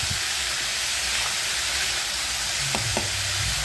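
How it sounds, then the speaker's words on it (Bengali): Steady, loud sizzling of vegetables frying in a pan, a constant hiss with a few faint clinks near the end. "এটাকে ভালো করে ভাজা ভাজা হবে।"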